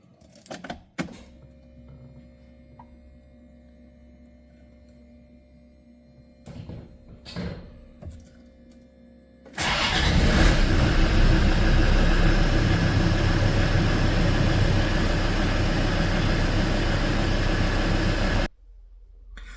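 A Land Rover Defender TD5 diesel is started again after detuning: a few key and cabin clicks and knocks, then the engine fires and runs at a loud, steady idle clatter for about nine seconds before it cuts off.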